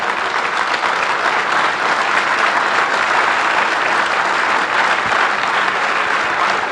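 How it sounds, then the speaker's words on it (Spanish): A church congregation applauds at a sermon, a dense, steady wash of many hands clapping at even loudness for several seconds with no voices on top. "aplaudan a Dios si quieren."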